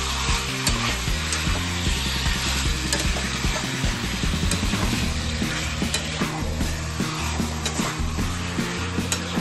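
Chicken masala with black pepper being stirred in a pan, a close, steady sizzle of frying with spoon scraping and clattering throughout.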